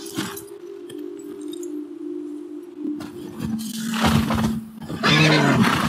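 Horse whinnying in The Last of Us Part II, a long tonal neigh with a steady pitched tone running under it, then louder rustling and clinks and a second shorter whinny near the end, fairly close.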